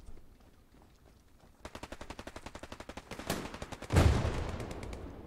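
Rapid bursts of automatic gunfire in Hell Let Loose, aimed at a bomb, crackle in a steady stream before a louder close blast near the end that trails off into a rumbling decay.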